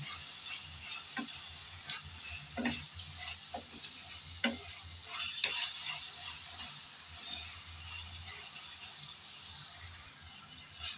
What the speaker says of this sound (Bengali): আদা বাটা আদা আর রসুন বাটা দিয়ে আবারও একটু নেড়ে চেড়ে ভেজে নেব